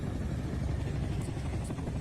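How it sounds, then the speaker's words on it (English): Steady low throbbing rotor noise of a Chinook helicopter passing overhead, fairly loud and continuous throughout the short stretch. "there's the Chinook helicopter flying over"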